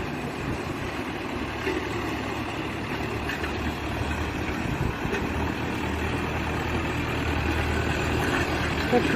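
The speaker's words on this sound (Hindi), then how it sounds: "ट्रैक्टर चल ही नहीं पा रहा है अच्छी तरह से।" A tractor engine labours on a dry, stony, grassy farm field being prepared after a cotton crop, a steady low rumbling drone at moderate distance, continuous and even, with no talk.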